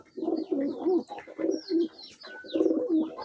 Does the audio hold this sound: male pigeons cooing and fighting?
yes